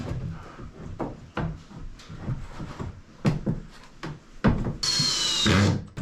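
A crowbar pries at wood aboard a wooden boat, giving irregular knocks, creaks and scraping thuds, ending in a brief louder grinding rasp.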